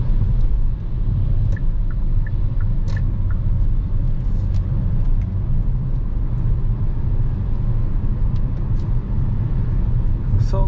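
Hyundai Kona N 280 HP SUV driving at night, a steady low engine and road rumble from inside the cabin, continuous and fairly loud with faint clicks over it.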